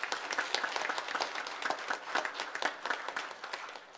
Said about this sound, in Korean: 오늘 우리 청소년부 함께 예배에 참석했는데 박수로 격려를 한번 하십시다.